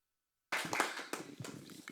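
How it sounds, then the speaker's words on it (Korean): Applause from an audience at a Korean software and AI innovation forum meeting, starting abruptly after half a second of silence and continuing as dense, fairly quiet clapping with no speech over it. "박수 한번 주시죠"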